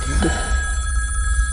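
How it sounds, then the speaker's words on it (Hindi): A telephone rings in a short steady electronic burst, with low background hum and no talking. "फोन की घंटी, फोन।"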